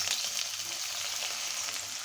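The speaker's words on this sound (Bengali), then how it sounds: "আমি পেঁয়াজ বেরেস্তা করে নিব।" Onions fry to crisp golden brown in a pan of oil, a soft, even, continuous sizzle heard close with no voices.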